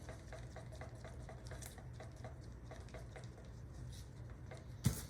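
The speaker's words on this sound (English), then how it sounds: "Stir it up good." Steady rhythmic scraping as a mixture is stirred after fine black pigment powder (Egyptian Pigments Onyx) is added, quiet and continuous, with a sharper knock near the end.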